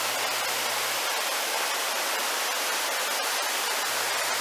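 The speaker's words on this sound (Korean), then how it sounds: "등룡폭포 상단과 하단의 폭포 모습입니다." Deungnyong waterfall on Myeongseongsan pours in a constant, dense rush of white noise, steady and unbroken throughout with no voices.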